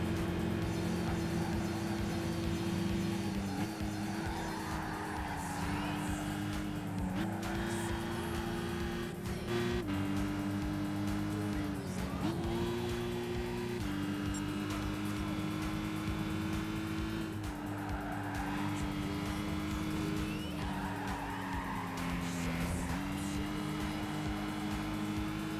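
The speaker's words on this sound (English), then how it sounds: "Wow, that car is fast." Race cars in Gran Turismo 5 roar continuously, their engine notes rising and dropping through gear shifts over a long stretch, with occasional tire squeal and no talk.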